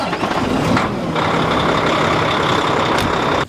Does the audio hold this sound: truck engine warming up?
yes